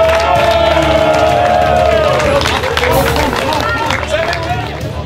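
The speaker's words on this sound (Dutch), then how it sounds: "Een applaus voor deze kampioenen." A crowd at a Dutch football club's annual day cheers and claps for medal-winning champions, a loud continuous roar of voices and applause that holds steady before easing slightly toward the end.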